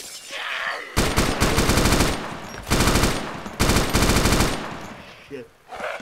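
Gunfire in the ARMA 2 DayZ mod video game: loud rapid bursts of automatic fire repeating in several volleys, with brief pauses between them and faint talk underneath.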